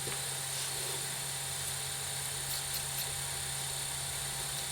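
A Sega Dreamcast GD-ROM drive spinning a disc, giving a steady whirring hum with a constant high whine, continuous and unchanging throughout, close up and fairly quiet, with no talking.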